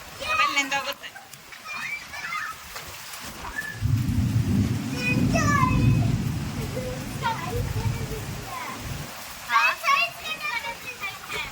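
Heavy monsoon downpour with a deep rolling thunder rumble through the middle, while children chatter and call out over the steady rain.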